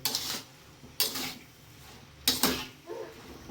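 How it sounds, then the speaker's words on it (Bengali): Greens (saag) stirred in a cooking pan, giving a few separate scraping, clattering bursts spaced about a second apart at moderate volume, with quieter sizzling between them and no talk. "এইভাবে সমস্ত কিছু দিয়ে নাড়াবো, নাড়িয়ে একটু ঢেকে দেবো"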